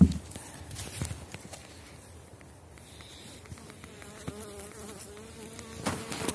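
Bees, a colony of the Elgon Bee line, buzz softly up close throughout, a low continuous hum with scattered sharper passes and light knocks of handling.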